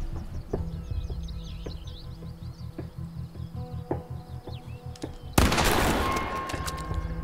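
Shotgun gunplay in the video game The Quarry, with muffled thumps under chirping birds and then one loud, close blast that rings out as it decays.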